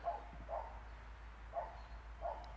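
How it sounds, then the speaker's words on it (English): Outdoors a dog gives four short, faint barks spaced unevenly, a pair near the start and two more toward the end, over a low steady hum. "while my dog is barking"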